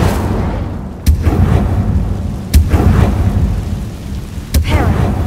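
Incendio fire spell cast in the Hogwarts Legacy video game, a loud rumbling whoosh of flame with three sharp bursts spaced across the clip, over a dense low roar and no talking.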